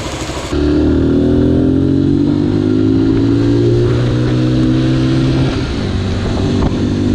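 Zontes G1 motorcycle out on a ride, its engine pulling steadily and loudly through rising and falling revs, with wind noise close and constant and no one speaking.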